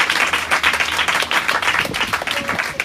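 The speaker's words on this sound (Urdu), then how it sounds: "زور دو تالیاں پاکوں کے لیے" A church congregation applauding in rapid, continuous clapping at moderate loudness, a crowd of hands close by, with no voices over it.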